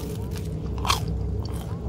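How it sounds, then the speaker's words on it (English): Crunchy pizza is bitten and chewed in the horror video game Fears to Fathom, with a single sharp crunch standing out over a low steady background; a voice may be faintly present. "I never knew pizza was so damn crunchy."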